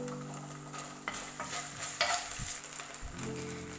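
Cabbage manchurian fries on a low flame as tomato sauce goes in, a quiet steady sizzle broken by soft scraping and stirring strokes of a spoon in the pan.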